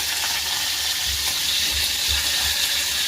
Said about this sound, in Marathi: जिरं टाकते, तेलामध्ये जिरं टाकलेलं, त्याच्यानंतर कढीपत्ता टाकलेला